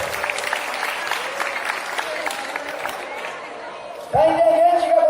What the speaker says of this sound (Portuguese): Pode aplaudir, porque caiu mesmo.